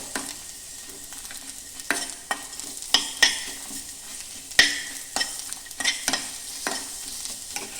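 Ingredients for arashina gojju roasting in a pan, a soft steady sizzle punctuated by repeated sharp spatula scrapes and clicks against the pan, close and without talking.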